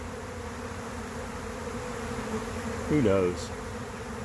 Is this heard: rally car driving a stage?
no